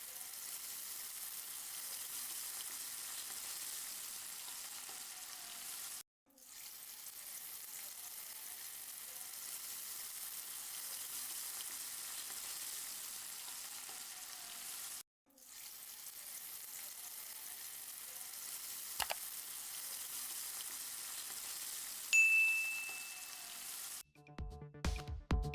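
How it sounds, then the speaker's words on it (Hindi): Chicken wings fry in hot oil, a soft, continuous sizzle and crackle heard close but faint, broken by two brief silent gaps and ending in a few louder clattering knocks. "इस तरह दूसरे चिकन विंग्स भी फ्राई कर लें।"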